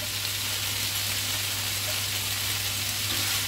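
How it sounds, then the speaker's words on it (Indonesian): Bean sprouts stir-fried in a pan give a dense, even hiss that runs unbroken and fairly loud throughout, with a low hum underneath and no talking. "Kita tumis juga hingga dia setengah matang ya"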